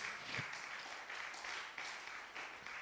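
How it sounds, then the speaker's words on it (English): Church congregation clapping hands together at the close of a Friday covenant hour Bible study, a steady dense wash of applause throughout with no talking. "Clap your hands and let's close."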